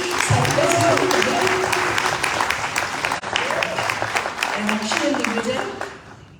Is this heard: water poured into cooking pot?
no